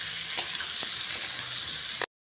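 Potatoes and onions fry together in a pan until reddish-brown, for a rural Bengali duck egg curry, giving a steady close-up sizzle with a few sharp stirring clicks before it cuts off abruptly.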